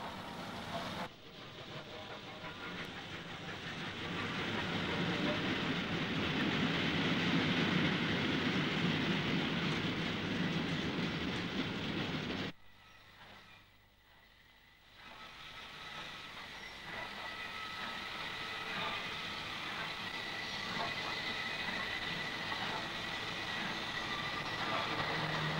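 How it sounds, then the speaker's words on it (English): A British Railways Jubilee-class steam locomotive, 45627, hauls a football special near Liverpool in the 1950s or 1960s. A continuous rolling rumble of the train is broken by a brief quieter gap midway, then carries on steadily. "The third special was hauled by the London Midland Region's last active Jubilee, Bank Hall's 45627"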